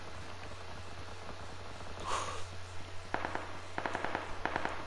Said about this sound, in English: Gunshots are coming over from this way, so I guess the firing range is over here.